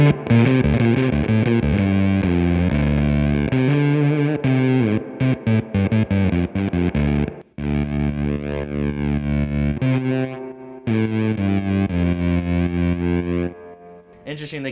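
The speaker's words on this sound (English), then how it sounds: "that's kind of like a low battery kind of effect. It's just essentially lowering the voltage." Zipper fuzz guitar pedal at a low-battery, lowered-voltage setting, giving a sputtering, gated, synth-like distorted electric guitar tone that cuts out in choppy bursts, played loud and close with brief silences where the gate closes.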